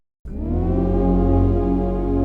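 A full, sustained grainy synth pad chord from a Sequential Prophet Rev2 with reverb swells in after a brief silence and rings on smoothly, with a wide, washed quality that never fades within the clip.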